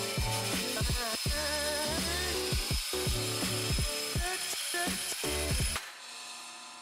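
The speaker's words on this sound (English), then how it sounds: "So I decided to cut as much as I could on the bandsaw." Bandsaw cutting wood for picture frames, a steady whirring motor hum broken by repeated short bursts of blade biting through wood, then the machine winds down to a quieter drone.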